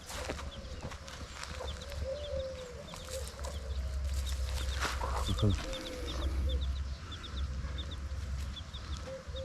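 Hens cluck softly amid a farmyard din, with short chirps from chicks repeating in the background and a brief sharper squawk midway.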